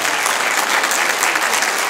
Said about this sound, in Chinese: 拍掌可以吗？